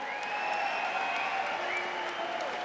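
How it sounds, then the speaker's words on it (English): Crowd applause for two fighters at a fight night event, a steady wash of clapping and crowd noise with faint tones ringing over it. "how about a nice round of applause for these two fighters here tonight?"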